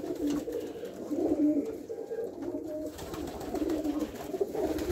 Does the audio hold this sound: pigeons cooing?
yes